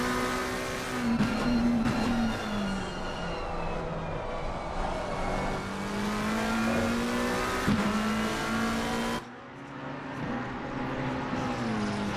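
A 2020 Mercedes AMG GT GT3 race car in a sim racing game at Bathurst drones under sustained load, engine pitch sweeping up and down through gear changes, steady and fairly loud with no talk over it.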